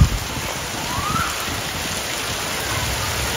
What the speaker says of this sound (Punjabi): ਮੀਂਹ ਮਸਾ ਆਇਆ ਜਵਾਕ ਚੀਕਾਂ ਮਾਰਦੇ ਫਿਰਦੇ ਆ